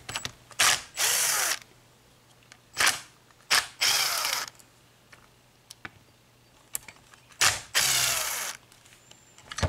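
A ratchet works on the rear bolts of a carburetor during cleaning, giving several quick loud clicking bursts close by, separated by quiet pauses, with no talk.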